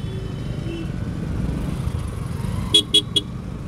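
Busy road traffic in Gujarat, with scooters and cars rumbling steadily close by, then three short, sharp horn toots near the end.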